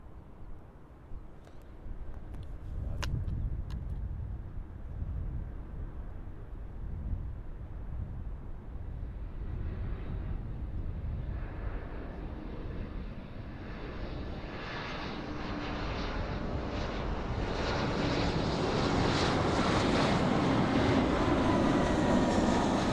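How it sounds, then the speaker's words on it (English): A KLM CityHopper airliner arriving at Amsterdam Schiphol approaches with a distant engine rumble that swells into a loud, rising roar and hiss as it draws near. "not too far out we have KLM City Hopper, flight 1684, arriving in from Bilbao"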